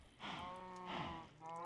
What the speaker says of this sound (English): I'm also going to feed some cows.